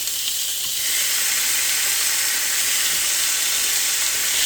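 A pound of bacon fries in a pan with a loud, steady sizzle, a dense continuous crackle that holds at an even level throughout with no voices.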